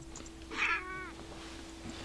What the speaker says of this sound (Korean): 야옹해봐